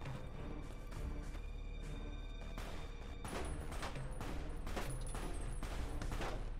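Gunfire in the video game Fallout: New California as a turret is shot at: dense, continuous rattling bursts and booms that fill the whole stretch at a steady, loud level, with no talking.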